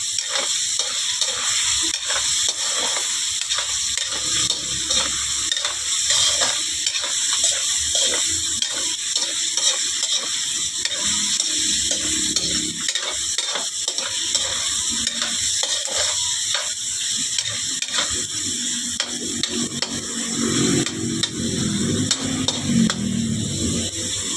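Boiled meat browning in a pan, a constant close sizzle and frying crackle with scraping stir strokes throughout, no talking.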